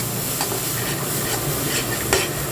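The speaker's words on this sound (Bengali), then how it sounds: "তার মধ্যে হলুদ দিলাম আরও একটু ভালো করে নেড়ে নিচ্ছি" Onion, ginger and garlic paste with turmeric frying in a pan while being stirred, a constant close sizzle with soft scraping and clinking strokes of a spoon scattered through it, and no voices.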